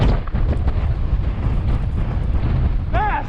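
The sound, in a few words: strong wind blowing through a canyon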